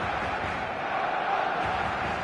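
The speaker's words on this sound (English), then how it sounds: "The noise is just about reaching a crescendo here as these two sides get ready to lock horns." A big football crowd before kickoff at a match, a dense, continuous roar of voices filling the stadium at steady volume, with no single voice standing out.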